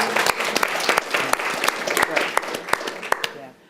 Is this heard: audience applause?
yes